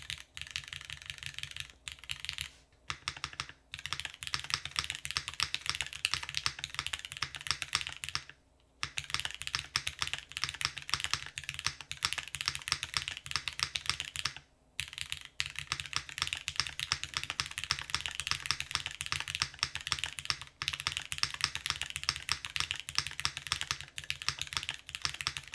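Fast, steady typing on a mechanical keyboard with an aluminum plate and lubed MX2A black switches on 60-gram springs, dense clacky keystrokes close up with a few brief pauses.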